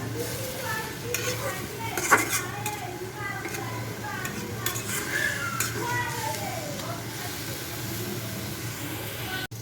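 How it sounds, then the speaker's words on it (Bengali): Leafy greens sizzle in a frying pan in a home kitchen, with a steady crackling hiss and occasional clinks of the spatula stirring, while someone talks over the cooking. "আমার শাক ভাজি বসাই দিচ্ছি"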